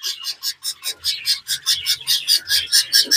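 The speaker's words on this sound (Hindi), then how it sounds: "इस बार भी देखें तीन बच्चे जो हैं इस बार रेम्बो आ गए हैं। देखें तो झटपटा रहा है ज़्यादा ये।" Budgerigar chicks inside a clay breeding pot give rapid, rhythmic high-pitched begging chirps, about four to five per second, close and loud, with faint rustling underneath.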